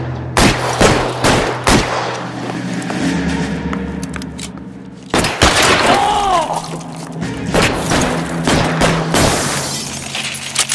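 Shootout in the L.A. Noire video game, with repeated loud gunshots and volleys that crack out in clusters over a steady background hum, punctuated by impacts and breaking sounds.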